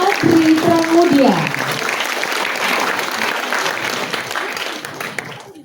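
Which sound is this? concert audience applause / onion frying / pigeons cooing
concert audience applause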